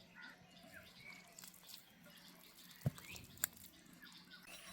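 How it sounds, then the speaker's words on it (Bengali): Warm water is poured into a bowl of roti dough being kneaded by hand, heard as a faint, low trickle with a couple of brief drips and knocks against quiet room noise. "আর একটু জল আমি এখানে দিয়ে দেব।"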